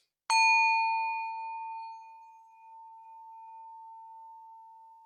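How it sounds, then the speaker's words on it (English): A meditation singing bowl is struck once, giving a sharp attack followed by a pure, steady, bell-like tone that rings on and fades slowly, alone in a quiet room. "It's a bowl, but it sounds like a bell like this."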